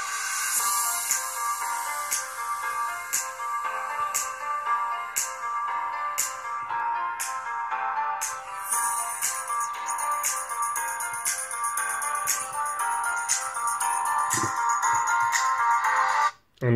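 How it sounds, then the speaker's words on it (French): A ringtone plays through the loudspeaker of an Oukitel U25 Pro phone: a bright, repeating melodic pattern with regular note strikes, loud and close, lasting about sixteen seconds before cutting off. "On va maintenant écouter le haut-parleur."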